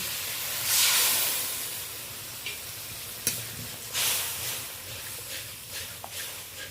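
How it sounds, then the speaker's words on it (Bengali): Spice paste loosened with a little water hisses and sizzles as it goes into hot oil for a pomfret curry, a loud steamy burst easing into steady frying with a few sharp clicks of stirring, no voices. "গুঁড়ো মশলার পেস্ট বানিয়ে রেখেছিলাম অল্প জল দিয়ে ওইটাই যোগ করে দেব"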